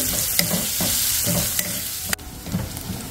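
Onion fries in a pan for a mixed vegetable dish, sizzling steadily while a spoon stirs and scrapes in rhythmic strokes. A sharp clack sounds near the end, and there is no talking.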